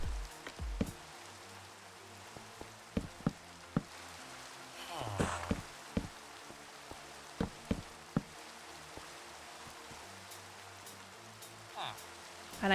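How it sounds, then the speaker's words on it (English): Soft steady rain over a swamp village in a building video game, with scattered knocks and taps from construction over the patter, no speech. "It rains a lot here in the swamp."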